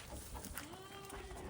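Young goat kids bleat on a farm of purebred dairy stock, their calls rising over a busy, steady background of other animals, fairly faint and continuous without talk.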